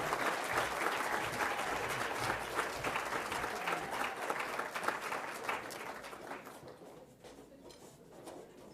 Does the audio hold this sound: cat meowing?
no